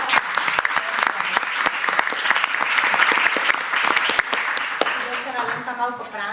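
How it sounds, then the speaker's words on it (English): A conference audience at a circular and digital construction event applauds, dense sustained clapping with sharp individual claps standing out and voices beginning to talk underneath near the end. "One applause."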